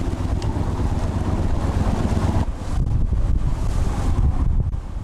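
Strong sea wind roars and buffets steadily around a small fishing boat off the islands of Geomundo and Baekdo, a loud broadband rush with gusts surging partway through and no voices.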